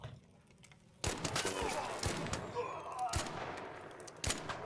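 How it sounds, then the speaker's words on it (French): Gunfire in the video game Arc Raiders: after a quiet second, a string of sharp, loud shots and bursts lands close by, with irregular spacing and a heavy final shot. "Il se fait tirer dessus."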